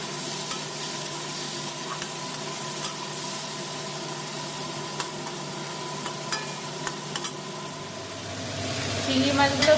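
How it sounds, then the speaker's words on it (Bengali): Prawns fry in hot oil in a kadai with a loud, continuous sizzle close by, broken by repeated scraping stirs throughout. "চিংড়ি মাছগুলো ভাজা হয়ে গেছে"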